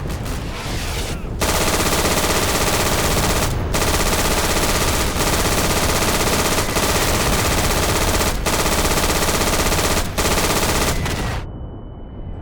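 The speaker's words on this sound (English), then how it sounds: "The MG42 is my favorite gun in this game" An MG42 machine gun firing in the game Day of Infamy, loud sustained bursts of rapid automatic fire with a few brief gaps, close and dominant throughout before cutting off at the end.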